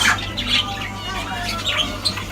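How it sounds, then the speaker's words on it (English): Harsh parrot squawks ring out nearby in short, scratchy bursts, one after another, over a low background hum. "Birds and stuff down here, like parrots."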